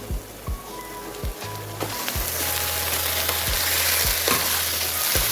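About a kilogram of chicken sizzles and crackles steadily in a hot pan with ginger-garlic paste, a few sharp clanks of a utensil stirring near the start, then a louder, fuller frying hiss.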